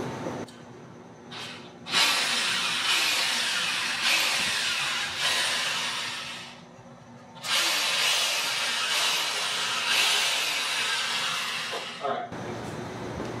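A power drill bores into a clamped wooden whirligig part in two long, loud, steady runs separated by a short pause.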